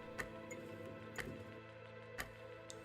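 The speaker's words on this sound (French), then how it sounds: "Le tic-tac." Ticking clock effect in a French horror tabletop role-playing game, three sharp ticks about a second apart over a low droning ambient bed, steady and moderately close.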